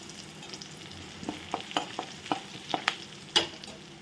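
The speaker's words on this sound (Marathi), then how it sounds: "लाल मिरची हळद लसूण कढीपत्ता जिरे छान तेलात परतून घ्यायचे" Red chilli, turmeric, garlic, curry leaves and cumin fry in hot oil, a soft steady sizzle broken by quick scraping stirs and clinks of a spoon in the pan, close up and without speech.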